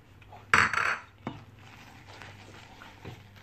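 Powdered biscuits and cashew nut powder are mixed in a pan for chocolate burfi, with a sharp metallic clatter of utensil on pan followed by a few quieter scrapes and taps.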